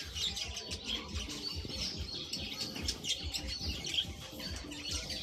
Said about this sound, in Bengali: অনেক পাখি আছে কিছু কিছু এখন খাচ্ছে